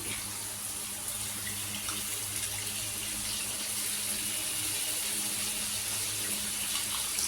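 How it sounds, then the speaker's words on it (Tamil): Old tamarind water being poured into a simmering oil-and-brinjal curry, a steady gushing liquid sound that runs continuously at close range with no talk. "இப்போ இந்த ஸ்டேஜில் இங்கே பாருங்கள், புளி ஊற்ற போகிறேன்."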